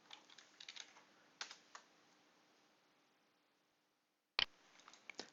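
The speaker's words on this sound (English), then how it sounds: "So we'll just type the same old password." Password being typed on a computer keyboard during a Linux software install, heard as quiet, irregular bursts of key clicks with a pause, then a sharp louder keystroke and a few more taps.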